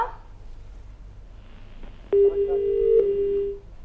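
A telephone line tone sounds as a caller connects to a call-in show, with faint line noise giving way to a loud steady electronic tone for over a second.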